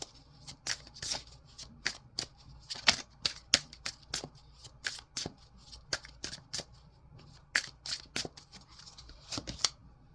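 Cards being drawn and shuffled from a spirit animal oracle deck, giving a close series of crisp papery snaps and riffles in irregular bursts, with no talking.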